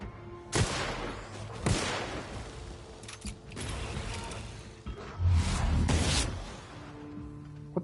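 Pistol shots crack out in bursts during a space-western shooter game, Gunslingers in Space, several loud sharp reports spaced across the stretch with rumbling effects between them.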